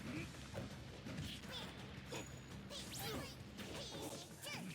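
Forward smash attacks in Super Smash Bros. thwack and whoosh repeatedly in quick hits and swishes, with an announcer talking excitedly over the game sounds.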